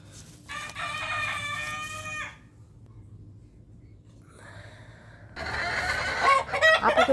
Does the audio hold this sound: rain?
no